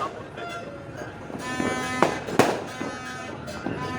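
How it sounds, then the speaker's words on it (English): Neighbors' New Year's fireworks go off at a distance, a few sharp bangs and crackles standing out over a noisy background with talk-like tones throughout. "Oh, they got like still got nice fireworks there."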